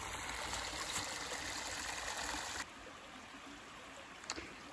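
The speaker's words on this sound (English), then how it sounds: "At creek crossing after summer adventures." A creek flowing at a trail crossing gives a steady broadband rush of water, loud at first and then dropping to a quieter, even flow, with no voices.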